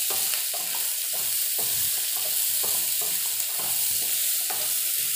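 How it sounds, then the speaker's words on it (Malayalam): Beef and vegetables stirred in a hot pan, steady loud sizzling of frying meat broken by rhythmic scraping stir strokes, close and continuous with no voices. "ഇളക്കി കൊടുക്കാം നന്നായിട്ട്. ഒരുപാട് വാടണ്ട, ജസ്റ്റ് ഒന്ന് സോഫ്റ്റ് ആയാൽ മതി."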